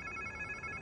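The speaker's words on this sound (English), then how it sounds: "Sounds like somebody's phone." A telephone ringtone in Marvel's Spider-Man 2, a steady electronic ring holding for under a second over a low ambient game background, fairly faint.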